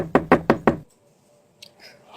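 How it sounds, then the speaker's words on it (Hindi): Four quick, firm knocks on a door at night in an even rhythm, close and loud, followed by quiet with faint small sounds. "किसी ने मेरे दरवाजे पर दस्तक दिया"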